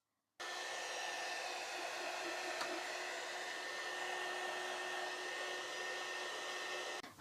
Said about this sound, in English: Again, going in with my hot air gun.